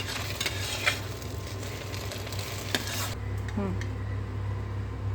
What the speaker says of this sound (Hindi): इसका पलट कर इसको अच्छी तरह फ्राई होने देंगे